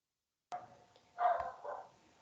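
A dog barks a few times at a distance, the muffled barks coming through a meeting recording with otherwise quiet background.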